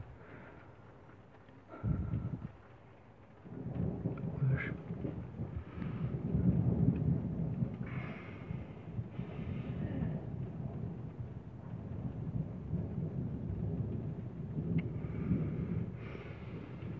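Low thunder from a moderate thunderstorm in Villers-Bocage, France, rolls and rumbles through steady rain, with a sharp nearer crack early on before the rumble settles into a long, continuous roll.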